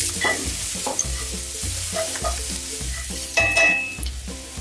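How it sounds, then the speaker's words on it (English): Onions cooking in oil in a pan for tocino pineapple fried rice give a steady close sizzle, with repeated rhythmic stirring strokes scraping through it and no voices. "We're going to add our onions. We're going to cook the onions until it's"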